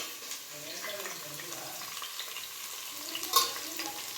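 Onions frying in oil in a pan for a chicken and egg masala, a steady soft sizzle with faint stirring scrapes and one brief clink near the end.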